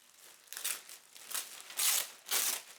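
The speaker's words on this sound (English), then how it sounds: "let's go ahead and open up the package or clear plastic bag" Clear plastic bag packaging around a Superdry pack-away bag crinkles and rustles in about five short bursts, close and fairly quiet, with no talking.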